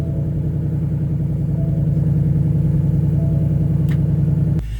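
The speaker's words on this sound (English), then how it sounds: "We're just going to hit that engine start stop button there." A 2020 Ford Mustang Bullitt engine turns over and settles into a steady, rumbling idle, loud and close, with a brief click near the end and no talk.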